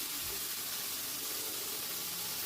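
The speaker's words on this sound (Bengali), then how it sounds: "একটু ফ্রাই করে নেব।" Okra sizzling and frying in a pan on a stove, a steady soft hiss with faint crackle throughout, fairly quiet and alone.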